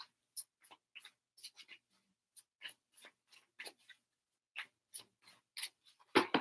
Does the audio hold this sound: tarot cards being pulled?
yes